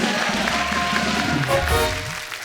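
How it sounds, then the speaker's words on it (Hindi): Studio audience applause on a comedy talk show, a continuous wash of clapping from a large crowd, loud and sustained, with voices and music tones running underneath. "एक बार पिक्चर के लिए जोरदार ताली हो जाए"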